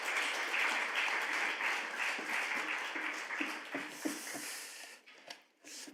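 A church congregation at a Wednesday worship service applauds to welcome the pastor: sustained, dense clapping from many hands fills the room, thinning and tapering off toward the end.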